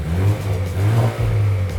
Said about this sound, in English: it sounds like a supercharger